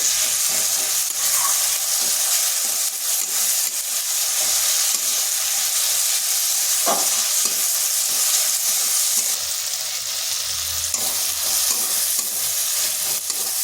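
Tomatoes with salt frying in a pan, a dense steady sizzle and hiss with stirring scrapes throughout, close and continuous with no voices.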